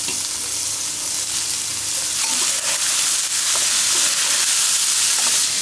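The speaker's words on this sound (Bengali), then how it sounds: "এটাই ভাজি করলাম আর রূপা আর আম্মুর কথাই মনে পড়তেছে তেলের কড়াই ওই কড়াইতেই দিয়ে দিলাম" Vegetables fry in hot oil in a kadai, a loud, close, continuous sizzle and hiss with faint stirring scrapes and crackles, no voices.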